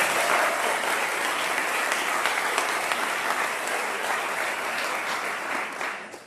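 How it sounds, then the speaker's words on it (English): A school district faculty convocation audience gives a sustained round of applause, dense steady clapping filling the room for several seconds before tapering off at the end. "Can we just give her one more round of applause?"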